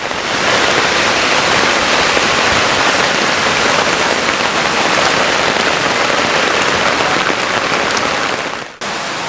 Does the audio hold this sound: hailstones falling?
yes